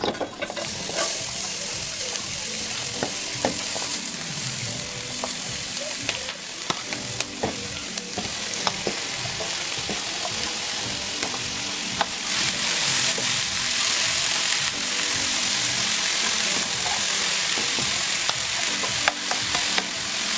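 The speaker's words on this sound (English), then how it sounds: "we're gonna add a little bit of oil to the pot. Right. And now, all of our vegetables." Callaloo and other vegetables sizzle and fry in oil in a pot, giving a steady close crackle with repeated stirring scrapes and light sloshing throughout, and no talk over it.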